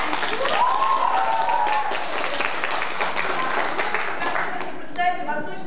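Audience at a student quiz contest applauds, a brisk wash of clapping from many hands lasting several seconds, with a voice briefly heard over it near the end.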